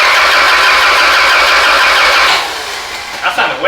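Rebuilt Honda Prelude engine cranking over to build oil pressure after a rebuild, a loud steady whirring churn lasting a few seconds before dropping off, followed by brief voices.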